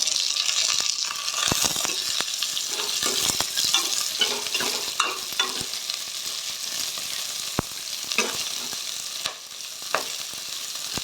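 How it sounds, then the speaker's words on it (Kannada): Chopped mixed vegetables fry with onion in a pan for vegetable sambar, a dense steady sizzle up close with frequent spatula scrapes and occasional sharp clacks, and no speech. "ಇವಾಗ ಇದಕ್ಕೆ ಹೆಚ್ಚಿಟ್ಕೊಂಡಿರುವಂಥ ಮಿಕ್ಸ್ ತರಕಾರಿನ ನಾನು ಹಾಕ್ತಾಯಿದ್ದೀನಿ"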